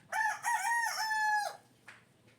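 A gamefowl stag crows once in a scratch pen set in the shade, a loud, close, drawn-out cock-a-doodle-doo with a few faint clucks trailing after it. No one speaks.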